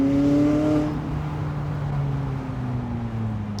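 A McLaren 600LT pulls hard under acceleration, its engine and intake scoop giving a loud, rising harmonic drone that climbs steadily in pitch, heard close from inside the car with no voices.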